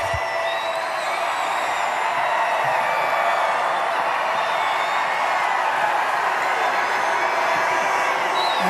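A large rally crowd for Donald Trump in Florida keeps up a steady, dense roar of cheering and whooping, with scattered shouts rising above the wash throughout.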